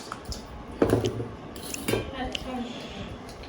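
A spoon clinks and scrapes in a bowl as iftar food, including puffed rice, is mixed by hand, making a few sharp metallic taps amid soft squishing while people talk nearby.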